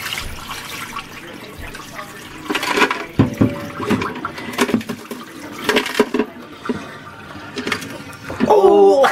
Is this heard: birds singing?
no